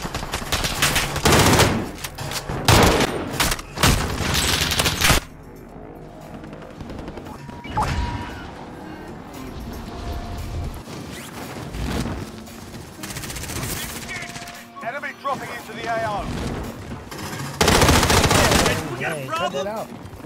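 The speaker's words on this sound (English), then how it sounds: "I'm taking fire!" Bursts of rapid gunfire in a video game shootout, loud and dense, arriving in several volleys with quieter stretches between them where the player talks.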